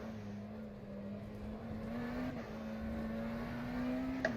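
McLaren Senna GTR race car engine in the rFactor 2 sim racing game, a steady sustained drone that rises slowly in pitch as the car accelerates, fairly faint and continuous with no talk.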